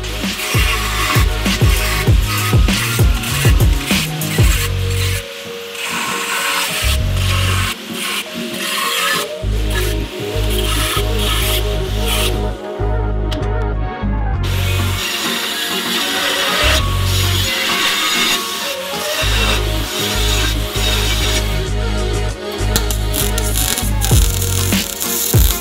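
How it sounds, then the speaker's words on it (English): A power tool cuts through a steel plate in long, loud, whining bursts separated by short pauses, harsh and close. "I'm going to cut out a piece of steel around this size"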